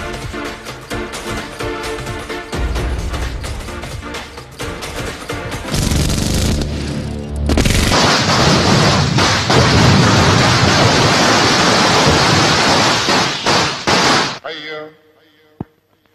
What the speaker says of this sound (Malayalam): എന്തിനാ ആളുകള് പടക്കം പൊട്ടിച്ചേ?